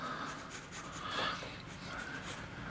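Letters handwritten with a pen, soft scratchy strokes over a few seconds, with a voice murmuring quietly underneath.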